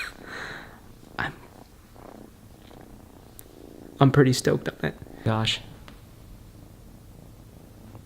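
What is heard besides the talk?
cat purring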